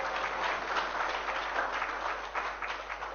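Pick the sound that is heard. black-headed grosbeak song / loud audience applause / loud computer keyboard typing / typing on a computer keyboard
loud audience applause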